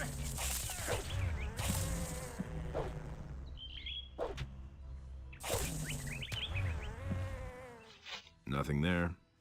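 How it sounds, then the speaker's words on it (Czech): Buzzing flies in the video game Gothic 2, heard as repeated swelling drones and whooshes amid game sounds, with a person speaking over parts of it. "To jsou mouchy."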